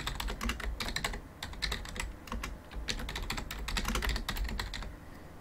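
Rapid typing on a computer keyboard while a Python program is written on a Raspberry Pi, close-up, with bursts of quick clicky keystrokes separated by brief pauses and no talking.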